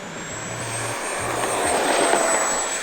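An FMS Rafale canard EDF RC jet takes off, its electric ducted fan giving a steady whooshing roar that swells slightly as the model climbs away, with a high thin whine running through it.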